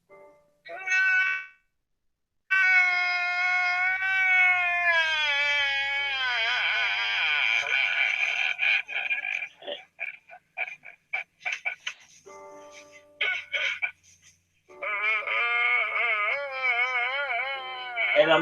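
Long, wavering whiny cries rise and fall in pitch, broken by short yelps and gaps, loud and close with no talking.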